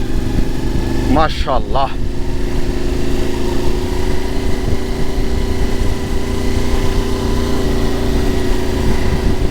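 A 450 cc motorcycle engine hums steadily and loud throughout a ride in a Gilgit-Baltistan valley village, its tone staying even while a voice speaks briefly over it near the start.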